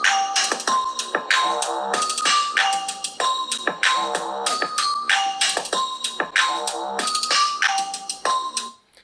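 Musical tones and chimes play from the stereo speakers of a Samsung Galaxy S21 Ultra phone, loud and steady with a repeating bright melodic pattern, fading out at the very end.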